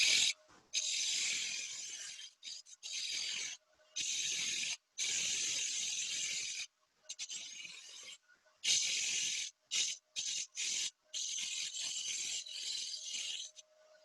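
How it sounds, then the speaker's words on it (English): A round nose scraper rasps against a spinning wooden ring on a lathe as its edges are rounded, in fairly quiet bursts of hissing scraping separated by short pauses. "Switch over to a round nose scraper. And I'm going to round off the edges."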